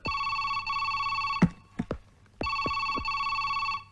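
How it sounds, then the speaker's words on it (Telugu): A telephone bell rings in bursts, two long ring trills separated by a gap with a few sharp knocks, clear and close in a tense political thriller movie scene, with no talking. "ఆ ఫోన్ రింగ్ అవుతోంది"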